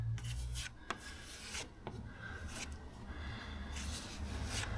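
Filler on a Mirror dinghy hull is sanded by hand in a quiet, close scratchy rubbing with repeated strokes and brief pauses.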